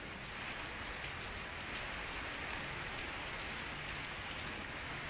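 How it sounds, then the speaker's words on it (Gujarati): Steady rain with strong wind pours down in Vapi, a dense continuous hiss of drops on surfaces at an even level throughout. "વાપી તેમજ દમણ અને આજુબાજુના વિસ્તારોમાં જોરદાર પવન સાથે વરસાદ પડ્યો"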